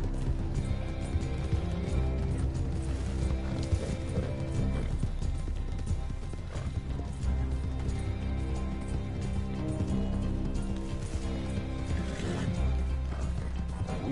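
Horse hooves galloping in Red Dead Redemption 2, a continuous rapid drumming of hoofbeats under a dense, loud game soundscape with music, steady throughout.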